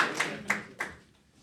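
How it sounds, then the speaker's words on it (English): A few sparse hand claps at a live cryptocurrency and blockchain event, three distinct claps that fade quickly into quiet. "Give Shelby a round of applause"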